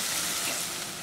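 Steady, dense sizzling of onions frying in hot oil for a dry fish curry, a continuous crackling hiss with no voices.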